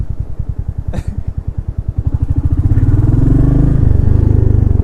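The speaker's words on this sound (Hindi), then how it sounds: "ये तो मैं थोड़ा सा ही घुमा रहा हूँ मैं एक्सीलेटर, और ये एकदम से पिक कर रहा है।" A bike engine, running fast thumps that climb as the accelerator is twisted, rising into a loud, steady revving roar up close.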